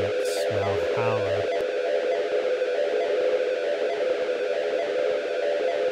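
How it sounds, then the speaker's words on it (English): A guitar effect pedal plugged into itself feeds back through Valhalla reverb, giving a sustained droning, distorted tone that holds steady after a few brief opening blips. "the reverb that we're hearing in Ableton, Space Blender, and Valhalla reverb"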